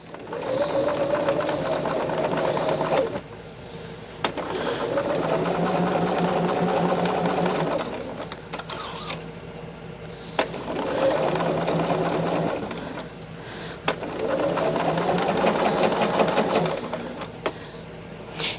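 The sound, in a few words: sewing machine sewing zippers onto bags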